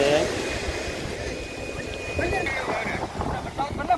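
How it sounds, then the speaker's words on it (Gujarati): Sea waves at Mandvi beach roar in a continuous broad rush mixed with wind noise, with voices faintly present. "ઘૂઘવાટા કરે છે દરિયાના મોજા મારે છે"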